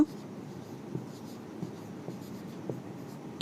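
Pen scratching on paper as a math solution is written by hand, a steady soft scrawl with small taps between strokes, close and quiet, with no talking.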